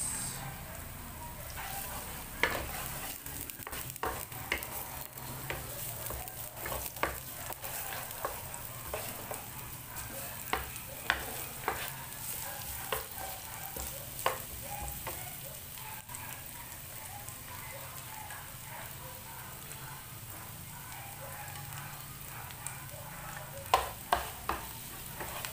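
Onions fry in a pan for shrimp Bicol Express, a low steady sizzle broken by repeated scraping clicks of a spoon stirring them at an uneven rhythm, with no talking.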